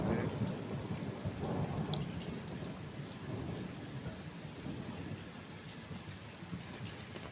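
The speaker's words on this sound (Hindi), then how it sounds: "देखिए आसमान कैसे गरज रहा है" Heavy rain pours steadily with a dense hiss while thunder rumbles low and continuously through the downpour, with no one speaking.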